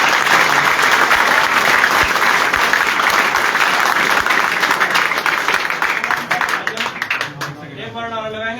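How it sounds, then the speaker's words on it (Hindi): Loud group applause at a Mahakal group meeting in Saharanpur, steady dense clapping for about seven seconds before thinning out, with voices and cheering mixed in near the end. "पहले तो भाई जोरदार ताली बजाएंगे सारे भाई।"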